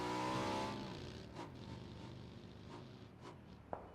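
Motorcycle engine from the game PUBG, a steady droning hum with rising and falling pitch as the bike is ridden, loud at first then settling under faint game noise, with a couple of sharp knocks near the end.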